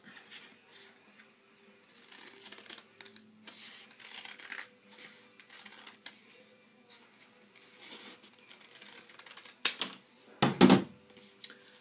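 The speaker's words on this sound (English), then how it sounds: "And then cut it out." Scissors snip through paper while cutting out bunny ear shapes for a craft, a steady run of soft close-up cuts and rustles, with a few louder crunching snips near the end.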